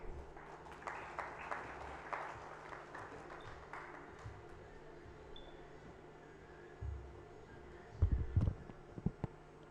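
Audience applause at a Naunehal Assembly youth session, welcoming a guest speaker to the stage; fairly faint, diffuse clapping in a large hall that swells early, then thins out under low room noise, with a few louder bumps near the end.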